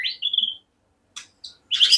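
A white-rumped shama gives a few sharp, bright whistled notes and chirps close by, separated by brief silences, ending in a rich warbled phrase.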